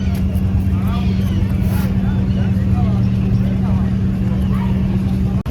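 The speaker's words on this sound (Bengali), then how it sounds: "ওই যে আমাদের নৌকা ভাই চলে গেল।" A boat engine drones steadily as the craft pulls away from a ghat on the Ganges in Varanasi, a low continuous motor hum with faint crowd chatter in the background.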